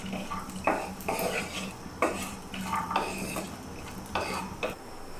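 A utensil repeatedly scrapes and clinks against a pan as dry fruits and dried dates are roasted and stirred for sheer khurma, several distinct close strokes over a faint background.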